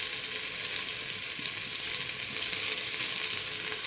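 Spice paste fries in a pan with a steady, close hiss of sizzling as it is stirred, and no voices are heard.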